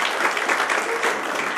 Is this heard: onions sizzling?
no